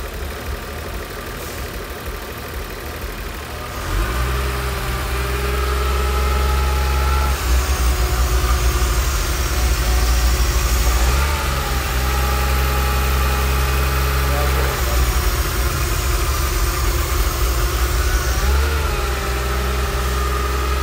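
A BMW Z3M Coupe engine idles steadily during a VANOS test, close and loud with a deep, even rumble, picking up slightly after a few seconds and holding through several gentle rev swells.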